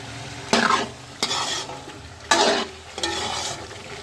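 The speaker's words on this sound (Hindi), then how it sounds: "अब इसको भून लेंगे अच्छी तरह" Chicken Afghani karahi with cream is sautéed in a pan, with four bursts of vigorous scraping and stirring over a loud frying sizzle.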